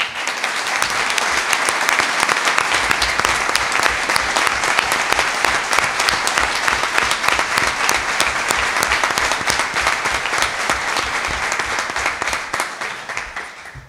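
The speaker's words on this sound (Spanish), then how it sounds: "Sirva este aplauso de reconocimiento a su labor" A council chamber audience at a town hall investiture session in Monforte del Cid gives a long, loud ovation in tribute to the outgoing council, dense clapping sustained for about fourteen seconds before tapering at the end.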